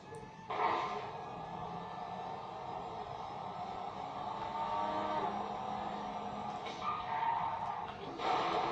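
Engine drone of a car racing in GTA 5, a continuous mid-level hum that swells and eases with a few brief revving surges, steady game audio without clear talk.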